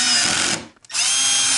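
Cordless power drill driving screws back in while fitting mud flaps on a Volvo S90 or V90, a loud, close, steady whine that briefly stops and then resumes.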